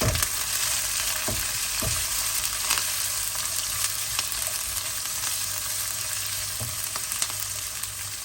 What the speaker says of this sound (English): So that's splattering away nicely. So we'll add in half of our onions now.